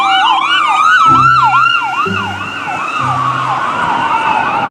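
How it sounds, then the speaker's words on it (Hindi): A toy ambulance plays a loud electronic wailing siren that sweeps up and down steadily, with a few low buzzy electronic tones pulsing underneath, close by and uninterrupted. "एम्बुलेंस"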